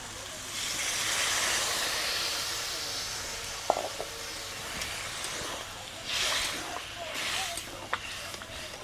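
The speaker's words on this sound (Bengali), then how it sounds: "এবারে এতে পরিমাণ মতো জল দিয়ে দিব" Water poured into a hot pan of katla fish curry with drumstick flowers sets off a broad steamy hiss that swells twice, with faint clinks and a little stirring in between.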